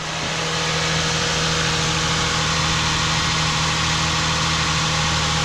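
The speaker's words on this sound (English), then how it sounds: "we're just gonna start it and let it idle" A 3.0L V6 in a 2006–2010 Ford Fusion idles steadily and continuously at close range, a constant low hum with no talking over it.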